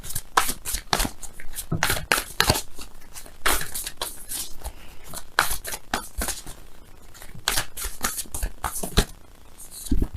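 Tarot cards shuffled by hand in a dense, steady run of riffling bursts and soft slaps, fairly close and continuous throughout, with faint speech-like sounds in places.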